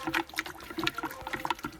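A spoon stirs sugar into water, giving a close, irregular run of liquid swishes and soft clinks with no talk.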